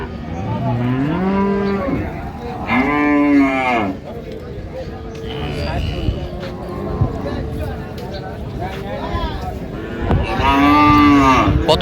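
Dairy cows and calves at the Raniganj cattle market in Dinajpur low repeatedly, several loud drawn-out moos rising over a busy crowd of talking voices.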